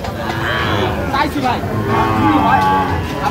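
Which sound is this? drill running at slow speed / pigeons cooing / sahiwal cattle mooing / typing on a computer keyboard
sahiwal cattle mooing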